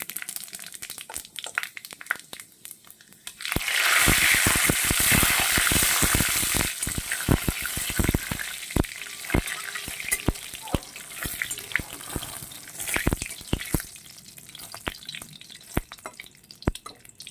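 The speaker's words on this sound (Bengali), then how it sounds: "ওই তেলে আমি ফোড়নও দিয়ে দেব পাঁচফোড়ন তেজপাতা আর শুকনো লঙ্কা" Panch phoron, bay leaf and dry red chili hit hot oil, bursting into a loud crackling sizzle after a quiet start, then settling into uneven popping and spitting that gradually thins out.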